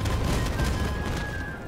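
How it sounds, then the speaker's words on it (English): Incoming missiles in the Crossout vehicle combat game, exploding as a dense, rumbling barrage of close booms that blur into one another, with a thin high tone running across the middle. "All right, we got missiles incoming."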